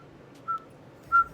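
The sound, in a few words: person imitating a whistle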